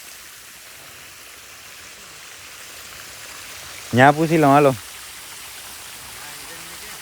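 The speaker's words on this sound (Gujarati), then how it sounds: "મકાઈમાં પાણી કમ્પ્લીટ ચાલુ થઈ ગયું" Irrigation water flowing steadily into a winter maize field, a continuous broad rushing wash heard at moderate level throughout, with a short burst of nearby speech partway through.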